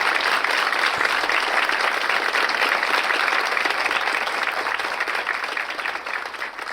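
At a church Bible study in Naples, Florida, a congregation applauds a guest with a dense, steady round of clapping that fills the room and slowly fades toward the end, with no talk over it.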